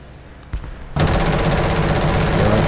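A 20 mm cannon on an XM800T light tank fires in War Thunder, opening with a brief shot and then breaking into a loud, continuous rapid-fire burst that fills the rest of the moment.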